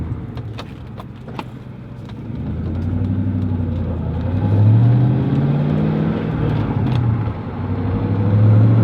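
A Ford Mach 1 Mustang pulls through a roundabout in second gear, its engine droning close and loud, rising in pitch as it accelerates, easing off, then climbing again.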